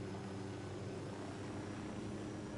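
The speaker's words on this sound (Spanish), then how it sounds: "I'm in the chopper" A helicopter in a video game gives off a steady, loud, even rotor and engine drone that holds without break and carries no voices.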